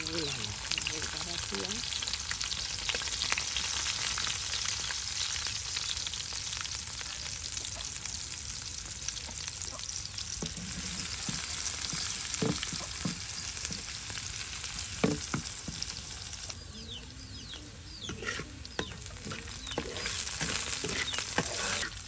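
Dried red chillies fry in a pan with a continuous crackling sizzle that runs throughout, with occasional stirring taps and faint voices in the background.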